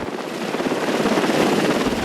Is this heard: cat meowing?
no